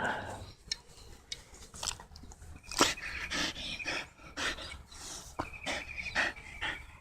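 A mixed-breed hybrid dog pants in quick rhythmic bursts close to the microphone, with occasional snuffles and mouth noises as someone talks quietly in the background.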